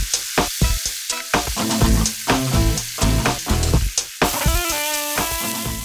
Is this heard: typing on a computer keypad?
no